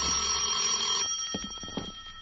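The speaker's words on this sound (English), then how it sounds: "At 10, my phone rang." An old-fashioned telephone bell rings loudly in a 1950 radio drama, one sustained metallic ring cut off abruptly, followed by scattered faint clicks and handling noises.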